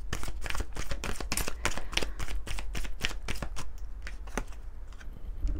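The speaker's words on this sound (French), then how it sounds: "on va prendre quelques cartes pour terminer de l'oracle des âmes éternelles" A deck of oracle cards is shuffled in a quick, steady run of crisp riffling snaps, close and clear, with no talking.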